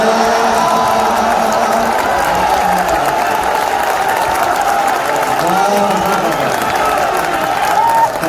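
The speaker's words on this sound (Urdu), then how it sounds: "تالی بجا رہے ہیں آپ، ایسا کام چلے گا نہیں۔" Audience clapping and cheering at an Urdu poetry gathering (mushaira) in Dubai, a steady loud wash of applause with crowd noise and a voice speaking over it throughout.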